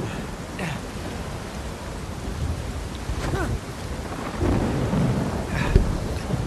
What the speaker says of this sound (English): rain presenting another challenge with everything being super slippery